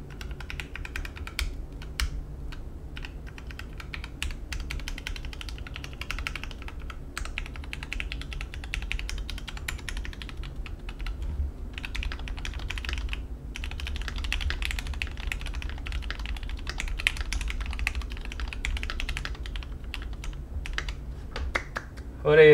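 Typing on a freshly assembled RART75 budget 75% custom mechanical keyboard, a run of brisk, uneven clacks and key taps that keeps going for over twenty seconds at close range.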